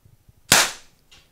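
A single sharp, loud shot from a Snowpeak Defender CP300 CO2 air pistol fired on a fresh CO2 cartridge, a hissing burst that decays over a few tenths of a second, followed by a fainter echo-like puff.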